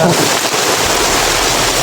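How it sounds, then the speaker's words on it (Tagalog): Steady rain falls as a continuous broadband hiss, dense and fairly loud throughout, with no distinct drops standing out. "May ulan daw."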